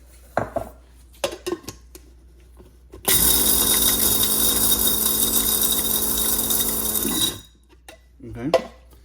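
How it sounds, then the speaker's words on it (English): Toasted spices are ground in an electric spice grinder, which whirs loudly and steadily for about four seconds after scattered clinks and handling sounds, then cuts off. Brief kitchen clatter follows. "We're gonna put these into our spice grinder,"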